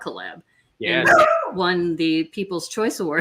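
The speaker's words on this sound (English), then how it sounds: "Sorry about my dog there." A pet dog barks and yips in short, sharp bursts near the microphone, overlapping with people talking over a call.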